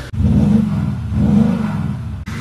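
A Maserati Levante and a Jaguar F-Pace rev before a drag race: loud, close, deep engine drone swelling in two long pushes, with sharp breaks at start and end.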